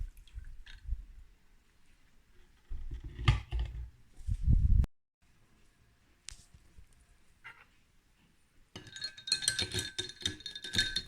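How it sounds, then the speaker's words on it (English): A spoon stirs an iced rooibos matcha latte made with hemp milk in a glass, with soft sloshing and a few louder clinks of ice against the glass, then a bright, rattling swirl at the end. "And give it a quick stir"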